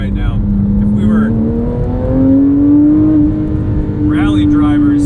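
Porsche 997.1 911 GT3 flat-six cruising in second gear on a canyon road, a steady engine tone climbing slowly in pitch with road and wind noise, loud and close from inside the cabin, with a voice talking over it.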